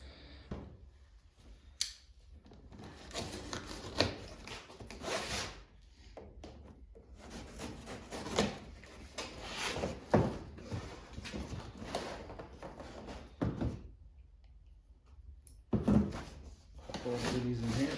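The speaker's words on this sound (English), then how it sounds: "We got a couple of boxes from Summit. We're gonna open those up" Cardboard boxes of car parts from Summit are torn open and handled close by, with a stretch of scraping, rustling, rubbing and sharp tearing noises, broken by brief pauses.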